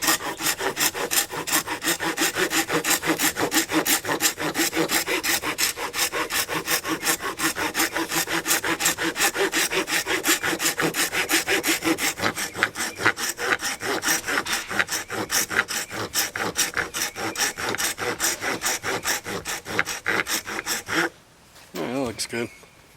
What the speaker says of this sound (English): I'll use this bastard file here, this wood rasp, and just come in here like this